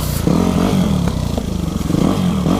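A Yamaha YZF 250 pit bike being ridden, its engine droning steadily and close with small shifts in pitch as the throttle changes, alone without speech throughout.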